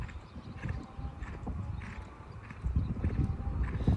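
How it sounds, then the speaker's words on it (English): A horse cantering in a dressage competition test, its hooves beating out a steady rhythmic clip-clop in the arena, moderately close and growing a little louder toward the end. "he has a nice canter, this horse"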